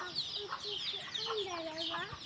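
Chickens clucking at a village home, several soft, fairly faint calls in a loose rhythm with a drawn-out cluck midway; a voice talks faintly in the background.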